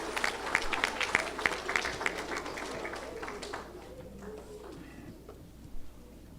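An audience at a fourth grade awards ceremony claps, a dense burst of applause that fades away after a few seconds.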